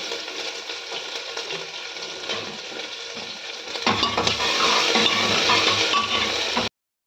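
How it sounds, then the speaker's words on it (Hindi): Tea dishes are washed with water in a village home kitchen, giving a continuous wash of running water and clinking utensils that swells louder partway through before stopping abruptly. "मम्मी अभी चाय के बर्तन धो रहे हैं"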